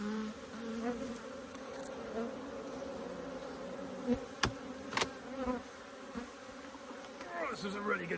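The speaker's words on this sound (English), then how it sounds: "Still a few bees in there, but hey ho, that's the way it goes." Honey bees buzzing around a strong, heavy hive full of honey, a continuous close hum with a few louder passes and sharp knocks or clicks of handling; no speech.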